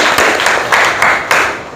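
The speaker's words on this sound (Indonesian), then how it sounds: "Kita tepuk tangan buat kita semua." A school class claps hands together in a few short bursts, roughly four quick rounds of clapping close by with brief gaps between them.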